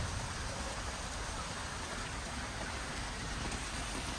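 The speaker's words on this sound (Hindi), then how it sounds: "बाहर बारिश लगी हुई है" Rain falls outside in a village in rural Indonesia, a steady, even hiss of dense drops that stays constant and moderately loud throughout, with no other sounds standing out.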